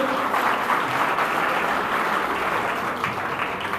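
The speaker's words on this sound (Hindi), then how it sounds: "एक बार जोरदार ताली कीजिए हमारी तीनों टीम्स के लिए" Audience applause for three quiz teams at a school quiz competition: dense, steady clapping from a crowd, loud and continuous throughout with no break.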